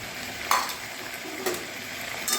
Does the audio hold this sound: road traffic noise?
no